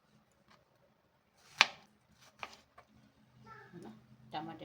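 A knife chops an onion on a board, with a few sharp, close cuts spaced irregularly and quiet background murmurs between them.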